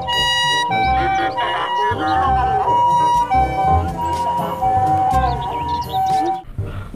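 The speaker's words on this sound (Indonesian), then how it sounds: "Di sini ada mobil ambulan." A toy ambulance siren wails in a steady, looping electronic tone close to the microphone, loud and continuous, with a voice talking over it.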